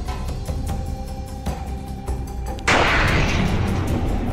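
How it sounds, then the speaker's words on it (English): Chelyabinsk meteor exploding in the atmosphere, a sudden loud broadband blast erupting after a stretch of crackling, popping bursts, then a sustained roaring rumble. "A massive explosion equivalent to 440 kilotons of TNT."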